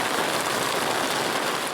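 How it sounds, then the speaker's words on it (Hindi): Steady rain falls hard and close, a dense hiss of drops on surfaces throughout, with no thunder rumble or voices. "जहलम और गिरदनवाह में गरज चमक के साथ बारिश हुई।"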